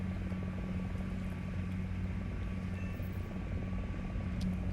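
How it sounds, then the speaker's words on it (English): An Mi-35 helicopter flies around in the video game War Thunder, producing a steady, moderately loud low rotor thrum with a faint engine whine, continuous and unbroken for a few seconds. "We have Me-35 flying around."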